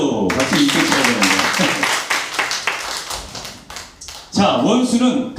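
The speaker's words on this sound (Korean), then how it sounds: "자, 박수 이렇게 쳐야 되는데." People clap their hands in a quick run of sharp, close claps during a church youth worship service, with voices talking over and between the claps.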